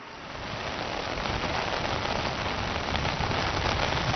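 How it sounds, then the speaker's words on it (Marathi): Heavy monsoon downpour in Mumbai roars as a dense, constant wash of rain with no voices, loud and unbroken from start to finish. "मुंबईत मुसळधार पावसाला सुरुवात झालेली आहे"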